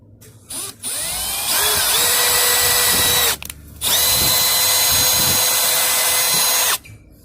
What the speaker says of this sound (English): I'm gonna do that right now with the drill bit.